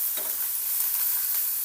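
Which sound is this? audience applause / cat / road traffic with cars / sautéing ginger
sautéing ginger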